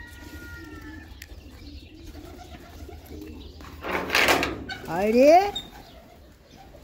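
Pigeons coo at a nest with a batch of young squabs, a low soft cooing under a voice, broken by a brief burst of flapping wings and a rising squeaky call near the end.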